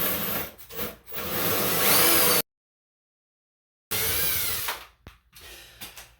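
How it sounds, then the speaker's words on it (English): A power drill bores through wall tile with water, a bathtub valve install: a close whining grind in two bursts separated by a silent gap, dropping and rising as the bit bites. "now I'm going to take my drill bit and some water, and I'm going to drill just through the tile."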